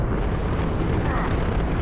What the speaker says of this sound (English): Enjoy a massive explosion